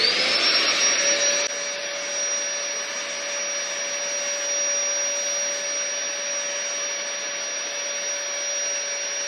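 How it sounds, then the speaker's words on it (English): Electric air pump deflating inflatable furniture, a loud continuous motor whine with a steady high tone and roar, easing slightly after the first second and then running on evenly, no talking. "So I'm going to get my pump out again."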